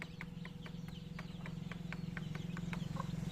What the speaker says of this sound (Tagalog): Ganito ang itsura ng native na manok namin dito sa Pangasinan mga boss.